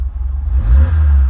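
An Opel Manta Berlinetta engine idles low on a cold start, then revs up and holds at higher revs, a rough, close rumble.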